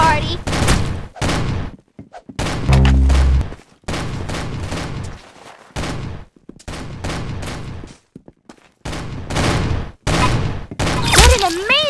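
Gunfire from the video game Arsenal comes in loud, dense bursts of rapid shots and fusillades, separated by short gaps, with game sound effects mixed in.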